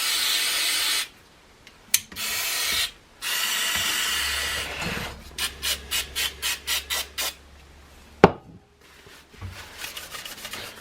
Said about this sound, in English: I quite like to use brake and clutch cleaner to clean out these variable capacitors